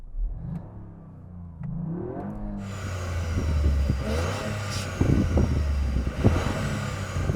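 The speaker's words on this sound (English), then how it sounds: "So I'm going to rev up this little Yaris." A small Toyota Yaris engine idles low, then revs up repeatedly, the pitch rising and falling in close, loud bursts, with fake engine noise played through the car speakers.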